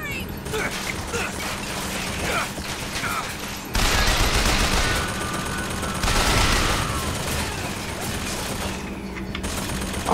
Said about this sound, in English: I would love to know what's shooting at me.